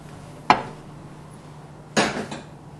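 Two separate sharp knocks as a knife slices yellow and white egg garnish strips on a cutting board for bibimbap, each a brief thud, fairly close, in a quiet kitchen.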